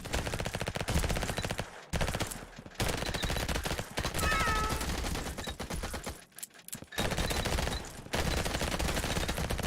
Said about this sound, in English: We will take the submachine gun.